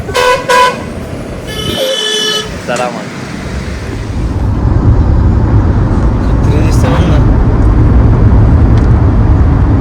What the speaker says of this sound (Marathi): किती गर्दी आहे बघा तुम्ही टोल साठी अख्ख्या लांब लांब पर्यंत गाड्याच गाड्या आहेत